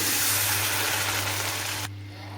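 Half a cup of water is poured onto a cup of sugar in a pan to start syrup for gujiya. A steady splashing gush runs for about two seconds and stops abruptly, with a low electrical hum underneath.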